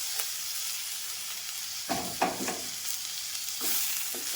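Chopped tomatoes frying in a pan for egg kurma give a steady close sizzle, broken by a few scraping stirs in the middle and near the end.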